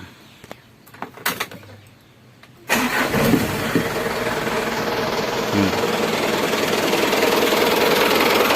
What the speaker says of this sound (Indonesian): Suara mesin itu biasanya bisa dicek.